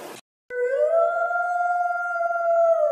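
A cartoon puppy called Swiper Puppy gives a single loud, sustained howl after a brief burst of noise, holding a steady, slightly wavering tone for about two and a half seconds with no talking.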